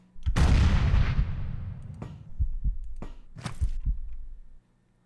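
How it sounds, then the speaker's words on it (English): A grenade detonates with a loud, booming blast in the Quasimorph shooter, rumbling as it decays. Several heavy thuds and sharp impacts follow over the next few seconds before the sound cuts out. "Let's throw a grenade in there"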